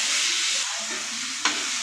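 Steady, close sizzling of tomatoes sautéing in a hot pan for a prawn fry, a continuous frying hiss with a brief clink near the end.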